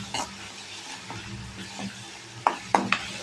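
Ginger garlic paste sizzles in a pan while it is stirred, for a prawn gravy. A low, steady frying hiss runs throughout, with a few sharp scrapes and clinks of the spoon near the end, and no talking.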